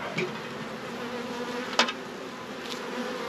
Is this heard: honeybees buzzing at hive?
yes